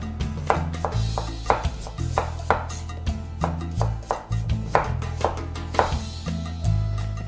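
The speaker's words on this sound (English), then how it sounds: "And the quarters I'm gonna slice into slices about 1/4 inch thick." Knife chopping through potato quarters on a cutting board, cut into quarter-inch slices for a Spanish tortilla; steady, close, crisp chopping strokes in an uneven rhythm, with no talking.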